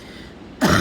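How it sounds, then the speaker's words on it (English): A single harsh cough bursts out abruptly near the end after a quiet stretch of rain-like background hiss, loud and close. "So this fucking cough"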